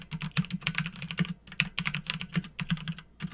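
Fast, close clicking of a computer keyboard as networking router commands are typed, a steady run of light keystrokes with brief pauses and no talking.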